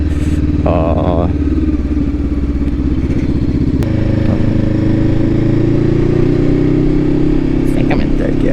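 A motorcycle engine drones loud and close while riding in third gear, a steady thrumming with a change in pitch midway, as a person talks over it.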